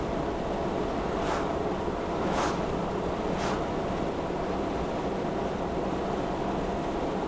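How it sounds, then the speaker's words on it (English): A Jeep driving down a smooth road, with a steady, close broadband roar of motor, tire and wind noise that holds constant throughout and has no talking. "You hear the tires a little bit, but definitely hear the motor more."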